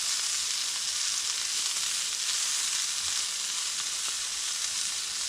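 Food sizzles and fries in a pan over an outdoor cooking setup, a steady bright hiss that continues evenly throughout, alone and close.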